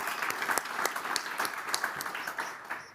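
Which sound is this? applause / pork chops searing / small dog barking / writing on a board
applause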